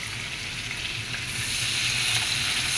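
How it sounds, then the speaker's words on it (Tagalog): Sautéed onion and garlic sizzle in a pan as they are stirred, a steady bright hiss that grows slightly louder toward the end, close and without talk. "Haluin na natin ang ating sinisang sibuyas at saka bawang."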